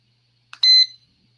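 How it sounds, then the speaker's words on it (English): A small trading-desk timer gives one short, sharp electronic beep that rings briefly and then stops in a quiet room. "that's my little timer"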